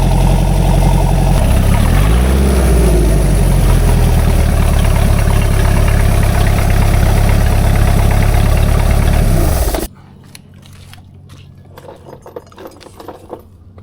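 An engine runs loud and steady with a rough, throbbing idle for about ten seconds, then cuts off abruptly, leaving faint ticking and small sounds.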